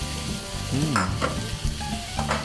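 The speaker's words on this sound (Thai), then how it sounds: "ผัดเลยครับผม" Carrots sizzling and crackling in a hot pan as they are stir-fried, with scraping and clinking of a utensil against the pan.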